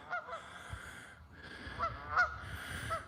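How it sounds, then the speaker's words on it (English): Geese honk outdoors near a wooded property with maple trees and a dock, several nasal calls spaced irregularly at moderate distance over a quiet background. "Got some geese out there."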